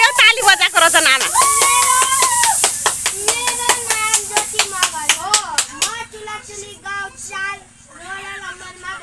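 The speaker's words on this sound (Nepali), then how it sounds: "ताली बजाऊ खोइ हो ताली बजाएको रहेछ नाना।" Children and family at a home birthday celebration clap along in a quick, steady rhythm of sharp hand claps, near and loud, while young girls sing and voices chatter over the beat.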